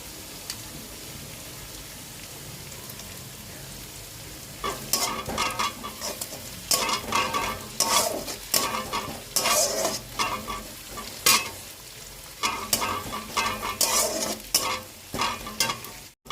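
Ginger, garlic and chili paste hitting a pan of cooking onions, starting as a faint simmer, then bursting into loud crackling sizzle with repeated scraping stirs in uneven bursts.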